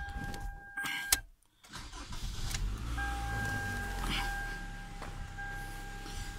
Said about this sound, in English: This car's motor is running.